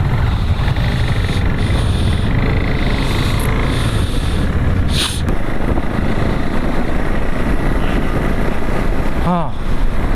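A Honda Highness motorcycle idles and rumbles at the start of a long ride, a steady loud engine drone that runs the full length, with a brief chirping tone near the end.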